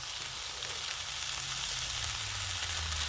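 Smash burgers sizzle on a Blackstone griddle, a steady close crackling fry that runs without pause and stays fairly quiet, with no talking over it.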